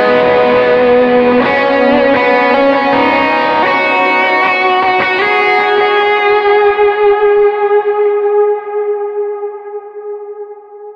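Overdriven electric guitar, with amp drive and an 808 overdrive matching a HIWATT Custom 20 tone on a Line 6 modeler, rings out with lush delay and reverb, sustained notes layering into a wash that slowly fades at the end.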